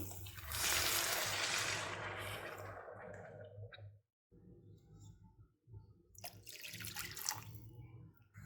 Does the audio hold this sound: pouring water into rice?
yes